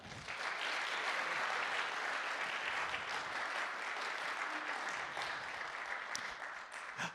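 An audience at a Bushwick Bookclub night of musicians and authors claps for a jazz vocalist, a dense, steady burst of applause that holds for several seconds before tapering slightly.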